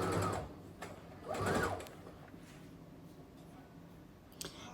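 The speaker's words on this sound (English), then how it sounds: "just make sure to sew slowly so you can follow the curve" A sewing machine stitches waterproof fitted bed sheet fabric for a beach bag insert in two short, slow bursts of mechanical whirring, close up, separated by quieter pauses with faint handling noise.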